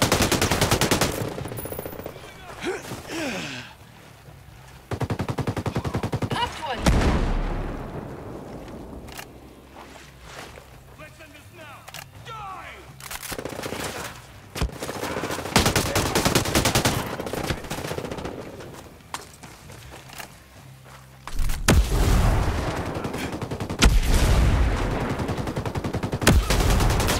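Gunfire in the tactical shooter Ghost Recon Breakpoint, loud bursts of automatic fire and sharp single shots coming in dense clusters with quieter gaps of ambient game sound between them.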